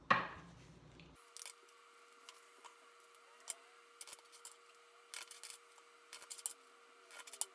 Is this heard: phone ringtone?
no